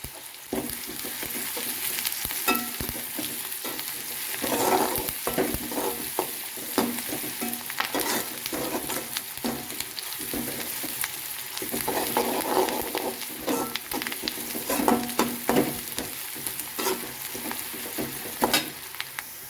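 Onions with curry leaves sauté in a pan for a chicken gravy, a steady sizzle broken by repeated scraping strokes of a spatula stirring them, close and fairly loud throughout with no talk.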